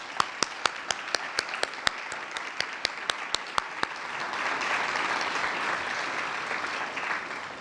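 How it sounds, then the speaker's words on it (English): Audience applause for staff members at a senior Hall of Fame ceremony: a few distinct claps open it, then a steady, dense wash of clapping builds and holds at moderate loudness. "can we give everyone, give those staff members a round of applause?"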